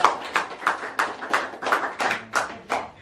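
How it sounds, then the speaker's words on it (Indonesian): Small group clapping for a child's father at a Jaipongan dance performance, about ten distinct, evenly paced claps that sound close and sparse, with no voices. "Tepuk tangan dulu buat ayahnya."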